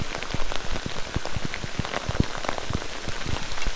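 Rain patters on a Frogg Toggs rain poncho at a campsite, many close, sharp droplet taps landing irregularly over a soft, continuous hiss, fairly loud and with no talking.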